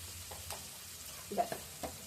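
Ground spice paste sautéed in a pan with salt, chilli and turmeric, a faint low sizzle under a few soft spoon strokes against the pan, quiet and close.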